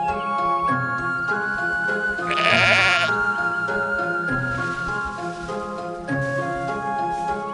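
Sheep bleat in the Black & White video game, several drawn-out wavering bleats in succession over a gentle musical background, one louder and harsher near the middle.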